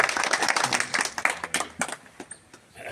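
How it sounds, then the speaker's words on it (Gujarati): A crowd at a Ram temple donation event in a village claps loudly and briskly, dense clapping that thins into scattered claps and fades out near the end. "જોરદાર તાળી, જોરદાર."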